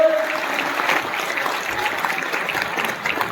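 Crowd at a BJP political gathering in Motihari, East Champaran, clapping during a ceremonial lamp lighting, a sustained ragged patter of applause in a hall, loud at first and then holding steady.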